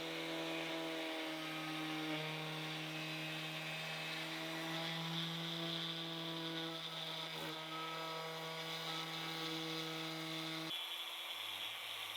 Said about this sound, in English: So I busted out the router and did a little lickety split around the perimeter.